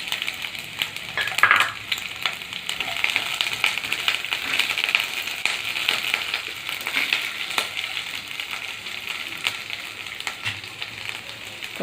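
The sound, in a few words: capsicum frying in a pan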